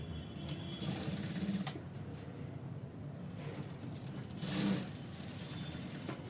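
A sewing machine runs steadily while stitching a folded seam in ankle-length pant fabric, a quiet continuous whirr with brief louder bursts.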